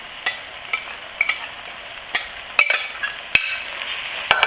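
Three cups of washed jasmine rice stirred in a pot over a flame, with sharp clinks and scrapes of the spoon against the pot over a low, steady sizzle.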